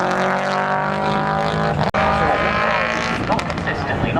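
A rally car at the McRae Rally Challenge 2025 accelerates down toward a hairpin, engine revving through gears with a sharp gap mid-run, heard beneath ongoing commentary.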